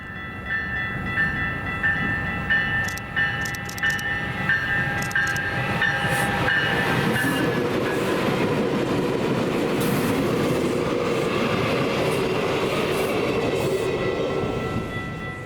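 A westbound A Line commuter train passes near Central Park Station in Denver, first with a sustained horn and whistle tones over rumbling wheels, then a loud continuous clatter and roar as the cars roll steadily by.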